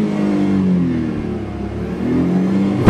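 A 2017 Chery QQ engine revs and accelerates up close, a steady mid-pitched drone rising and falling in pitch across the run, loud and continuous with no talk.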